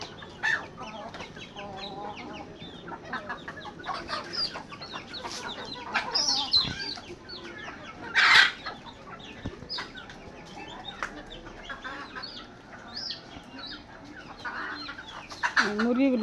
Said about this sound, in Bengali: মুরগিগুলো সাইরা খাবার দিয়ে দিছে